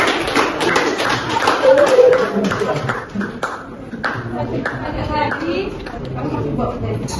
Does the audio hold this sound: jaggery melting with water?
no